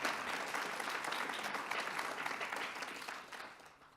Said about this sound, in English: Can we get a round of applause for those people, please?